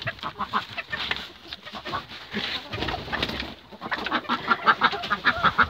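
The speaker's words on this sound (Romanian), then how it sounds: "Găinile pitice." Several bantam hens cluck and chatter close by, with bird calls overlapping in a busy, continuous barnyard murmur.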